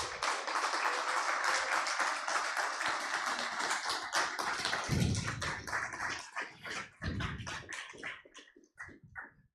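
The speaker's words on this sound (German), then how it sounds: "Ich glaube, ich darf jetzt allen einen verdienten Applaus." An audience at a stage event in Graz applauds at the end of the show. Dense clapping is sustained at first, then thins into scattered, separate claps as it fades.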